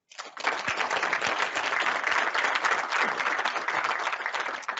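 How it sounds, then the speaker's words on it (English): An audience gives a round of applause to a speaker after a presentation, a dense and fairly close burst of clapping that starts abruptly and holds steady for several seconds. "we would maybe give you a round of applause"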